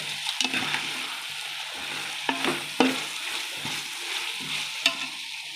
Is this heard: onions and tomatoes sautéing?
yes